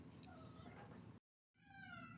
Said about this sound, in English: my cat has an opinion about that